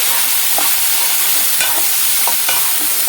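A spoon stirs turmeric into a prawn curry in a pan, making steady scraping and stirring sounds over a constant bright sizzle of frying.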